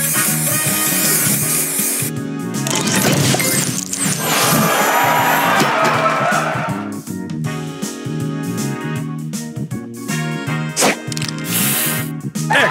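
Spray booster in the mobile puzzle game Match Masters fires with a loud burst of shattering, sprayed effect sounds over steady game music, followed by a run of quick chiming tile-clearing hits.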